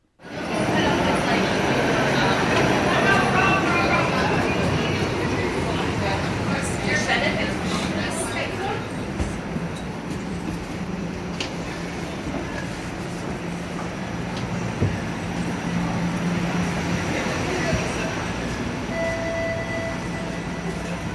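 Rumbling interior ride on a TTC streetcar in Toronto, a steady continuous roll of wheels and motor noise with rattles and occasional squeals, close and loud throughout, with people talking faintly in the background.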